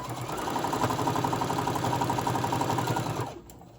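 A sewing machine stitching hot pads runs steadily at a fast, even pace, loud and close, then stops abruptly near the end, leaving quiet room tone.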